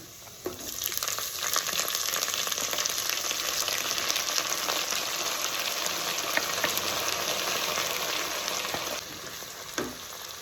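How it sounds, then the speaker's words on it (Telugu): Chopped spring onion greens hit deep-fried onions in a pan for a curry, giving a loud, steady frying sizzle that runs close and continuous, with a few scraping stirs near the start and end. "ఇప్పుడు మనం దీంట్లోకి చిన్న చిన్న కట్ చేసుకొని పెట్టుకున్న ఉల్లాకులు వేసుకుందాం"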